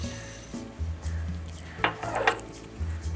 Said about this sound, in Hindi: मिक्स करना है हमें चीनी मेल्ट होने तक।